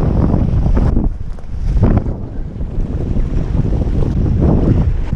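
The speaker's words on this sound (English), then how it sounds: "it's super windy out here. Those are waves, those are full-on waves." Strong wind buffets the microphone in heavy gusts while ocean waves from an 8-foot swell surge and roar against the shore throughout, loud and close.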